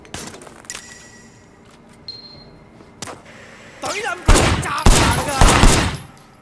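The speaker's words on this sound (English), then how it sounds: "There was a shooter, firing shots from the passenger window." Gunfire from a car's passenger window in the Sleeping Dogs video game, with a few sharp isolated cracks followed by loud rapid bursts of shots near the end.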